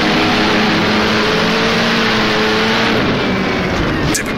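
A 1937 Grand Prix race car engine in the rFactor Tripoli Grand Prix mod, a loud close buzzing drone held steady at high revs, then dropping in pitch near the end as the driver downshifts to second.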